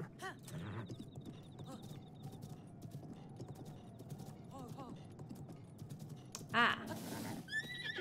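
A horse in the video game Zelda: Breath of the Wild, with rhythmic clip-clop of hooves and a short neigh near the end, under brief speech and soft game sounds.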